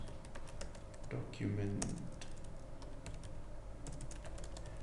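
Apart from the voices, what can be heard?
typing notes on a computer keyboard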